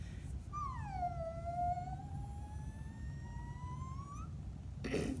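A voice imitates a sad dog's long howl, one sustained, wavering tone that dips and then slowly rises for several seconds, heard close up over a low background rumble.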